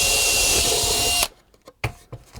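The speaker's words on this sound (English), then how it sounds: "I'm just going to basically drill holes. All the way along, just like I do with plastic." A power drill whirs loudly and steadily as it bores a hole through plywood, then cuts off abruptly, leaving a few sharp knocks and clicks of handling.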